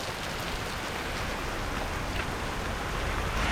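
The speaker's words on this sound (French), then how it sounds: "effectivement, il pleut bien. Un vrai déluge, encore une fois." Heavy tropical rain pours down on Réunion Island, a dense, steady hiss of drops at an even level throughout with no pauses.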